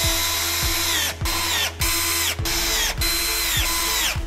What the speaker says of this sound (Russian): Мастер на видео использует шуруповерт.